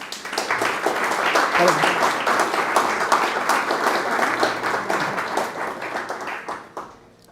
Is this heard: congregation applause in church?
yes